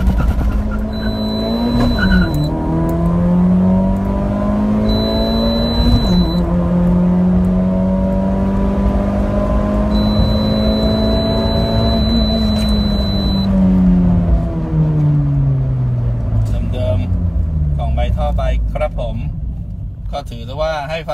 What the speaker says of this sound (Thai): ถือซะว่าให้ฟังเสียงท่อ S4 ไปด้วยนะครับ